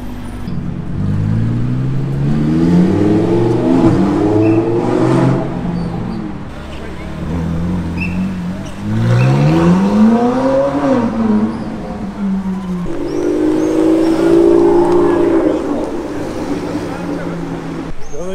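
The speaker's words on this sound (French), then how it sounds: "On a eu un bel enchaînement quand même là avec la sonorité au ralenti du V12 de la Vanquish, c'était sublime" An Aston Martin Vanquish V12 among supercars on the street during the 2023 Monaco Grand Prix weekend, heard as a deep engine revving and swelling in several rising sweeps, with traffic and crowd noise around it.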